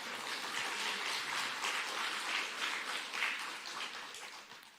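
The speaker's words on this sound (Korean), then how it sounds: "박수 치잖아요" Church congregation applauding at a Sunday worship service, a steady dense patter of many hands clapping at moderate distance throughout, with no voices over it.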